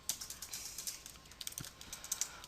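Quiet, rapid clicking of keys on a computer keyboard as code is typed, an irregular run of soft taps close by with no talking.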